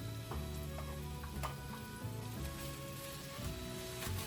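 A generous amount of onion fries in plenty of oil for pansit bihon, giving a soft, continuous sizzle with scattered stirring clicks. The sound is quiet and close throughout.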